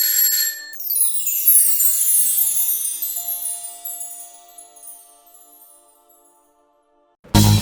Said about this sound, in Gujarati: પછી અચાનક અંગૂઠો ખસેડીને તે તેની બાજુના બ્લોકના બારણા પાસે ગયો અને એ બ્લોકનું ડોરબેલ બટન દબાવી દીધું